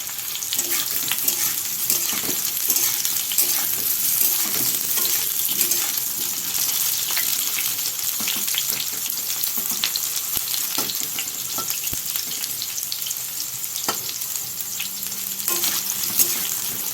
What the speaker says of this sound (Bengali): চলো বেশি আর নাড়বো না, এই দেখো হয়ে গেছে ভাজা